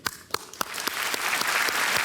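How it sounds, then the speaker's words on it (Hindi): A studio audience on the set of the game show KBC applauds, starting with a few distinct claps that quickly swell into steady, full-bodied clapping from a large crowd, with no voices over it. "एक बार फिर तालियों के साथ शेखर गुप्ता जी का स्वागत हम करते हैं"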